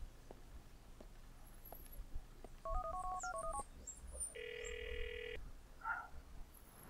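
Phone dialing in GTA IV: a short burst of two-tone keypad beeps, then a steady electronic ringback tone of about one second, set over faint street and park ambience.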